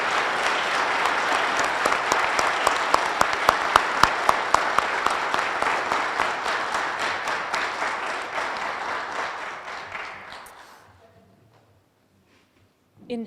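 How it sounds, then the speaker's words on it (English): An induction ceremony audience gives sustained applause to the inductees. The dense, steady clapping includes some sharp individual claps, lasts about ten seconds, then tapers off into near silence. "how about a round of applause for all of our inductees here today?"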